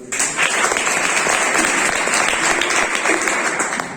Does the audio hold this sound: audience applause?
yes